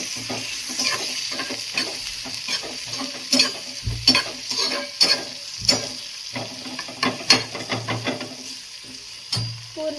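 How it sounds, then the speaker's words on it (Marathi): Tomatoes frying in a home kitchen pan after onions, with a steady sizzle broken by frequent scraping and stirring clatters throughout, close and fairly loud with no talking. "त्यानंतर टाकायचा टोमॅटो टोमॅटो छान असे भाजून घ्यायचं"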